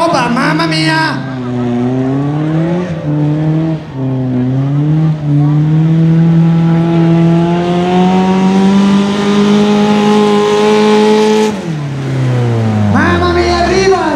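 A pulling tractor roars through a tractor pull run at the ITPO 2023 final, Agriland, Cervarese Santa Croce, its loud engine note climbing steadily in pitch for about ten seconds before cutting off, with talk over it at the start.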